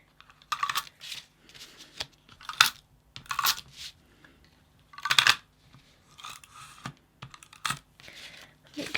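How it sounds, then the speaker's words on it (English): A double-sided tape roller is pressed across a card blank in repeated short, crisp bursts of ticking and scratchy rasping. The strokes are irregular and close, with quiet gaps between them. "I've got a double-sided tape roller to do that"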